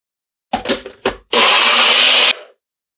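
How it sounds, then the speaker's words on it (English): A Magic Bullet blender blends whole eggs with their shells, two short loud pulses followed by a longer, steady high-pitched whir of the motor that stops abruptly, close and alone. "I have a little Ninja or NutriBullet here, Magic Bullet blender"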